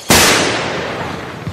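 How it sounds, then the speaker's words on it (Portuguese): A single loud gunshot in a 1645 drama scene as Portuguese forces arrive, a sharp crack followed by a long rolling echo that fades. "Esses tiros, os portugueses estão a chegar"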